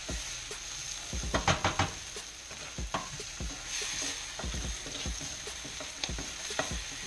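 Capers sizzle and pop in a hot pan for chicken piccata, a steady frying hiss broken by sharp close crackles and a cluster of louder pops, with no voices.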